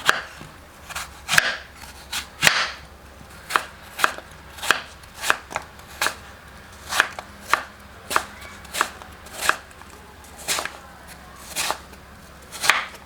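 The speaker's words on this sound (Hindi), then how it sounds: "सबसे पहले सेब को छील लेंगे और बारीक काट लेंगे" A peeled apple is finely chopped on a cutting board for fruit chaat, with about eighteen close, crisp knife strikes coming in a steady, slightly uneven rhythm, and no speech.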